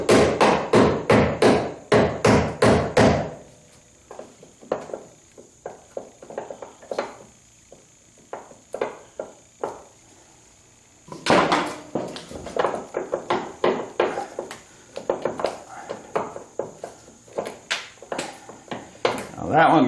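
Screwdriver being driven against a hinge pin bushing on a 1976 Corvette restomod, sharp metallic taps in quick bursts at the start and again later, with scattered knocks in between and talk in the gaps.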